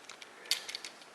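A RIA MAPP1 polymer CZ clone pistol in 22TCM9R rattles faintly in the hand, a few light metallic clicks and ticks over a second, close but quiet.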